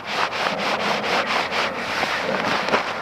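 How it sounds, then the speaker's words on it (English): Slippery top fabric of a Klymit Static V ultralight sleeping pad being rubbed in repeated close swishing strokes, a steady rhythm of soft brushing scrapes with no voices. "So it's quite slippery, the top fabric, you can hear that."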